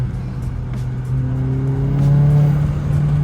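MK7 Volkswagen GTI fitted with an APR open carbon fiber intake accelerating with the window open, a steady engine drone rising in pitch through the gear, with faint intake whoosh over wind and road noise.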